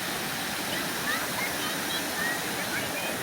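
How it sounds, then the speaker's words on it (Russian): Water streams down the metal wall of Crown Fountain in Chicago, a steady broad splashing rush that fills the whole clip without pause. "По металлической стене течет вода."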